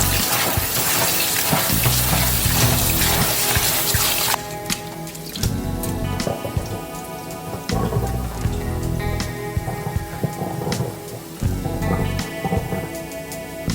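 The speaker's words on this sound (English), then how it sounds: "I'm going to wash the rice." Rice being washed under running water for Jamaican sardine stir-fry seasoned rice; a steady, loud rush of water with splashing and sloshing runs throughout, briefly shifting in tone partway, with no talk.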